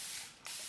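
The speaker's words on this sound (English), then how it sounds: "I just like to use a spray bottle" A spray bottle misting water onto a watercolor palette gives two short, soft hissing bursts separated by a brief pause, close and quiet.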